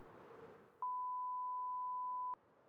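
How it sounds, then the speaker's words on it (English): A single pure steady beep sounds after a stream redeem, lasting about a second and a half and cutting off cleanly, over a low quiet background. "There's another beep for you."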